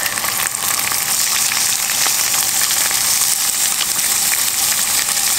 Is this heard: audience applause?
no